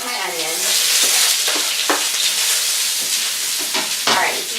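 Onion hits hot oil with a sudden loud sizzle that settles into steady close frying, broken by a few sharp stirring scrapes and clacks, with no talking.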